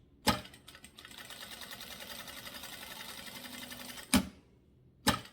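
A sewing machine stitches a zipper onto clear crystal plastic in a steady, close whirring run of needle strokes lasting several seconds, framed by sharp clunks before and after.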